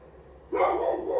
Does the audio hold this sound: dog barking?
yes